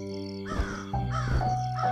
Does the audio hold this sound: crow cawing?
yes